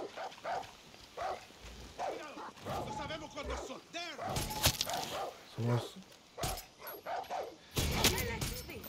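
Dog barking in the Far Cry 6 video game, several short sharp barks scattered through the clip, heard close and mixed in with ongoing speech and game sounds.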